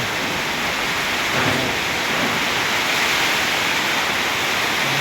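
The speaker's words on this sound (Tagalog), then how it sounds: "Lakas ng ulan." Heavy rain pours steadily on a mountain in a dense, loud wash of noise, with no talking throughout.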